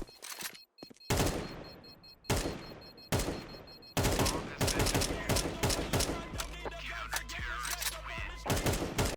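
Rapid AK rifle fire in Counter-Strike 2, loud sharp bursts of shots followed by sustained automatic volleys with dense overlapping cracks, close and punchy throughout.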